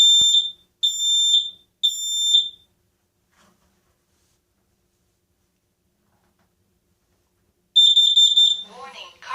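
A smoke and fire alarm under test upstairs gives three loud, evenly spaced shrill beeps, then falls silent for several seconds before sounding again near the end alongside a faint voice.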